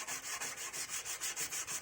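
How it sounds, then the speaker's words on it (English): Sandpaper rubbing along the bevels of a hand-filed knife blade, a quick regular back-and-forth scratch of about eight strokes, faint and close with no talking. "I'm just gonna touch up the bevels to remove the file marks, the rough file marks"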